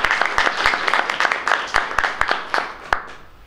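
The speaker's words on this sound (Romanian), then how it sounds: "Le urăm succes și încă o dată aplauze pentru acești frumoși copii." Sparse, uneven hand claps from a small audience at a children's poetry book launch, a few sharp individual claps standing out over a soft spread of clapping, fairly close and moderately loud.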